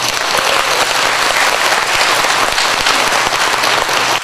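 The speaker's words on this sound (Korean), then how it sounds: "일단 박수 좀 한번 쳐줘봐." A sermon audience claps on request, with loud, dense and continuous applause from a large gathering that holds steady for several seconds before dropping off at the very end.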